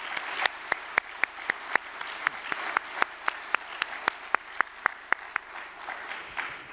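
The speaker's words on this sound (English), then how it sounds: "I think that entire crew deserves another round of applause for everything they've done." Audience applauding a crew, made of sharp, evenly spaced claps that ring out one by one in a steady rhythm, close and distinct, with no talk over them.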